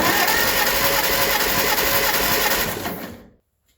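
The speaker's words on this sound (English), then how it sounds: "We're going to crank the starter, let it hit about 4 times" The starter cranks a Farmall 200 tractor engine during a compression check, giving a loud, close, rapid churning that runs for about three seconds before cutting off abruptly into silence.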